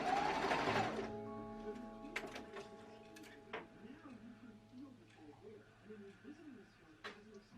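Home sewing machine stitching a bedsheet dress lining, a brief loud burst of motor whir at the start, then quieter scattered clicks and light mechanical ticking as the fabric is handled, with soft talking underneath.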